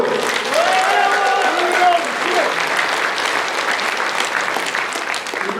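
An audience at a People Power Party member education and chapter chair inauguration ceremony in South Chungcheong applauds steadily for several seconds, with a voice speaking over the start of the clapping.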